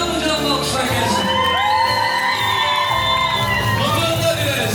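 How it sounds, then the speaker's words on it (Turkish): A crowd at a Turkmen wedding in Istanbul cheers and whoops with shouts and rising calls, loud and close, while voices ring out over the festive noise. "Alkışlar gelsin, alkışlar gelsin. Canlı alkışlar gelsin."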